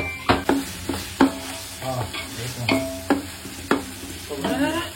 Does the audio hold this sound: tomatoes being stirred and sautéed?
yes